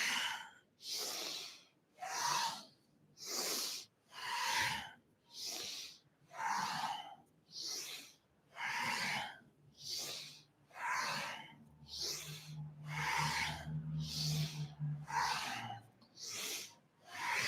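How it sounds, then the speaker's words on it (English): Deliberate, rhythmic inhales and exhales during kundalini-style yoga, about a dozen long, airy breaths close up in a steady alternating pattern, with a faint low drone entering partway through. "We're going to exhale to one side, inhale up, exhale to the other side."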